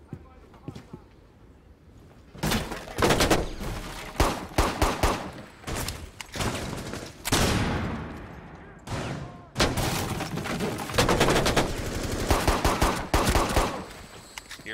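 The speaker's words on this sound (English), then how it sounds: "he was like shooting me in the back with an assault rifle" Assault rifle gunfire in Rainbow Six Siege Terrorist Hunt on PC, loud dense bursts of automatic fire in repeated volleys with short pauses between them.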